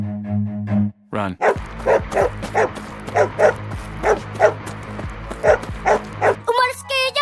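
A dog barks and yips repeatedly in a steady run of sharp bursts in a Filipino animated cartoon set in a backyard mango grove, sounding close and loud with cartoon voices talking over and between the barks.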